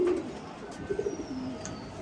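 Tournament pigeons give soft, low cooing calls, one at the start and another about a second later, against a quiet background.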